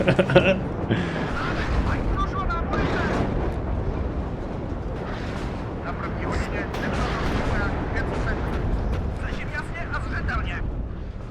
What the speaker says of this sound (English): artillery is coming in at the same time